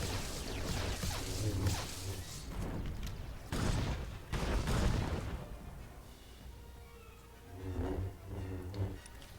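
Video game gunfire from Star Wars: The Old Republic comes in dense, loud bursts and blasts, with whooshing impacts and a brief lull before more shots, sounding close amid busy game audio.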